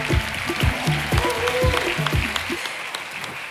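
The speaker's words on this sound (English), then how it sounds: "Another round of applause, ladies and gentlemen" An audience at a women's forum 20th-anniversary celebration claps steadily, with a voice and low booming tones pulsing underneath for the first few seconds before the clapping carries on alone.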